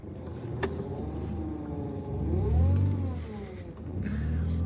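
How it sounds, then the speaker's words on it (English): A faulty steering mechanism in a car groans and whines while the driver turns around, a low rumbling creak that swells in the middle, heard close inside the cabin over steady engine and road hum. "That's the steering thing in my car."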